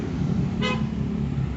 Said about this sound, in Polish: Trąbią na mnie